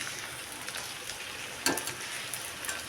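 Chicken kabab frying in hot oil in a pan over a high gas flame, a steady dense sizzle with a brief louder crackle partway through.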